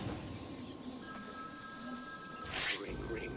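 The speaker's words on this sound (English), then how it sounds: "Another ringing phone." Ringing telephone in the Batman Arkham City video game: steady electronic ring tones starting about a second in, continuing at moderate level over a low game ambience, with a brief louder burst near the end.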